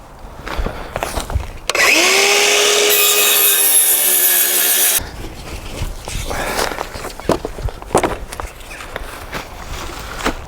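Battery-powered saw cutting through wood for a final cut while building an allotment pathway and raised bed: one loud, steady buzzing cut of about three seconds, then quieter scraping and handling sounds.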